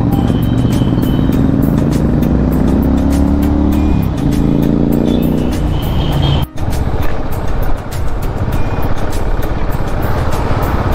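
A Honda CB200X motorcycle's exhaust drones while ridden close behind on the road, a loud rumbling engine note that rises and falls with throttle, buried in heavy wind buffeting and a sharp knock partway through, with no voices.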